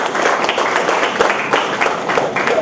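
At a lecture on electoral reforms and good governance, an audience welcomes a guest with steady clapping, a busy patter of many hands at moderate loudness.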